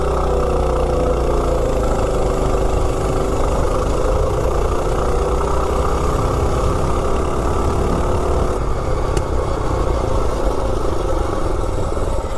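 Small mini bike engine idling while it warms up, a loud, steady low chug that runs unbroken throughout with no voices.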